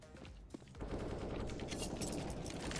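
Fairly faint automatic gunfire from a video game, a short pause then a steady rattling stream of shots.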